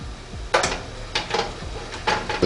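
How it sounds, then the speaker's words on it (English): A baking pan is pulled from the rack of a NuWave Bravo XL countertop oven, giving several close metallic clanks and scrapes in quick clusters over a low background hum. "get this bottom pan out"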